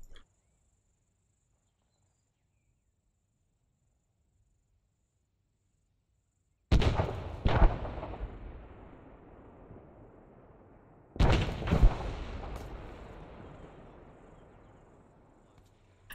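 Two sharp, heavy marksman rifle shots from Arma 3 crack out about four seconds apart after a long quiet stretch, each followed by a long rumbling echo that fades slowly.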